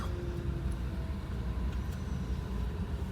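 Road traffic in a night-time traffic jam on a road trip to Pangot near Nainital, Uttarakhand, a steady low rumble of idling engines heard from inside a car, with a brief faint tone.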